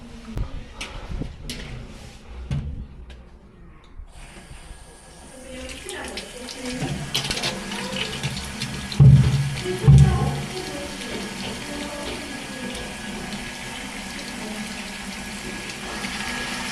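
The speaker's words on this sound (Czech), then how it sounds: "Zkusím tam nalít vodu." Water poured into a blocked drain: clattering handling noises give way to a steady running pour with gurgling and splashing, while a voice speaks briefly near the start.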